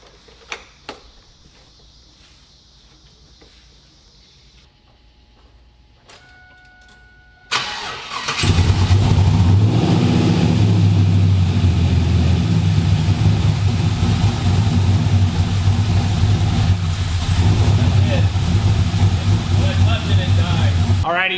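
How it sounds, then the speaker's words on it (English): A 2000 Camaro SS with a big-cam LS1 engine test fires after a quiet stretch of small clicks, then settles into a loud, steady, lopey idle that carries on to the end, with voices partly heard over it. "we just had a few test fires and she ran fine."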